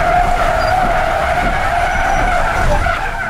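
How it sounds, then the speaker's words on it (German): A city bus in Braunschweig brakes hard from 50 km/h, its tires skidding in a loud, continuous squeal that lasts about three seconds and is heard alone, without voices. "Ich musste schon ganz hart auf die Eisen treten, damit der Bus überhaupt so auch bremsen kann."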